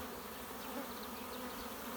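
A honeybee swarm hums in a faint, continuous drone from an apiary during swarm season, with the buzzing steady and even throughout, no voices.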